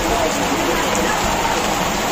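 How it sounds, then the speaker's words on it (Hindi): Rain falls in a dense, steady hiss at the start of the first rain of the season, loud and even throughout. "ओहो बारिश चालू हो गई"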